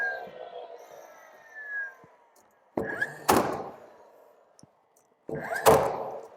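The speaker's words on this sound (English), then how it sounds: "So I'm going to bang a nail on that." A hammer drives a nail into a timber door liner, with two loud, sharp double strikes ringing out close by, separated by quieter handling noise.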